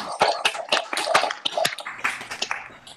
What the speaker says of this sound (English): let's have a round of applause for Lillian